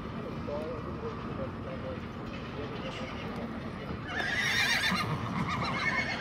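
A herd of roan quarter horse ponies gathered for branding, with shuffling, hoof movement and low snorts, then a loud close whinny rising over the scene near the end.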